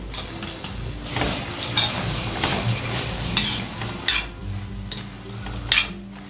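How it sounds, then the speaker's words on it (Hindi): Dry fruits being stirred into lauki halwa in a pan, with repeated scraping and clinking of a spoon against metal over a soft, continuous sizzle; a few sharper knocks punctuate the stirring and no one speaks. "इसमें ड्राई फ्रूट मिक्स कर देंगे"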